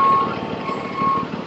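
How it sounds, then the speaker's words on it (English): A truck reversing with its engine running, sounding sharp, steady high-pitched backup beeps over a low engine rumble, close and loud. "waiting for that truck to turn their engine off"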